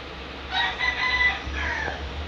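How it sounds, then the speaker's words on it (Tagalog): A neighbour's rooster crows once from some distance, a drawn-out call of just over a second above a low background hum, with no talking. "Asensya na rin sa ingay ng manok ng kapitbahay namin."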